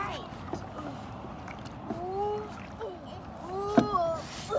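Paddles dip and splash softly as a family paddles a canoe on open water in light wind, with children's voices talking over the water sounds.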